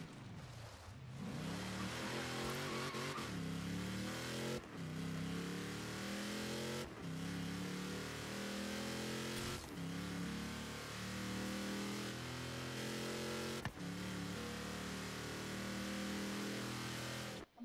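A car engine in the racing game Forza Horizon 3 revs hard and loud through repeated gear changes, each pull climbing in pitch before dropping at the next shift, with no voices.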